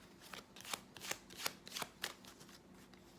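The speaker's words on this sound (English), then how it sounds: "we take your 7 of hearts and shuffle it into the pack" A deck of playing cards shuffled in a series of quick, crisp riffles and flutters, close up, with short pauses between bursts, during a card magic performance.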